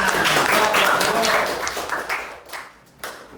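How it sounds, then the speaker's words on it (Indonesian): A classroom of students claps hands together in a brief burst of fairly close applause that quickly thins out and fades within about three seconds. "Beri tepuk tangan."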